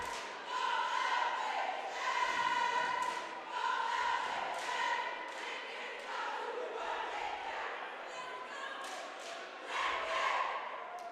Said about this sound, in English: what you're hearing right now is called the cheer voice